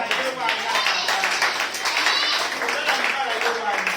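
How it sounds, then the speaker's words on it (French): A church congregation claps and cheers in a steady, dense burst of applause that fills the whole moment, with voices mixed into the noise. "Acclamez très fort."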